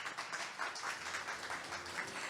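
Applause from a conference audience at an international design research forum, a steady dense patter of many hands clapping throughout, moderately loud and continuous.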